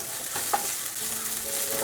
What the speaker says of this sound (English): so to medium heat I am going to let it simmer until the onion gets brown